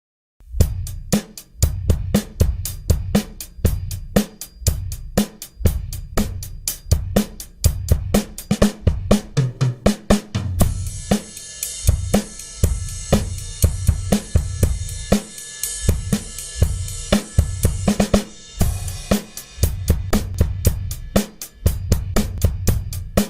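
An acoustic drum kit plays a steady eighth-note groove, alone and close, with regular kick and snare hits under a driving hi-hat pulse that moves to a washy ride or crash cymbal for a stretch in the middle.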